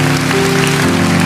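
An audience breaks into steady, dense applause for housewives at a church sermon, loud and continuous with no pause.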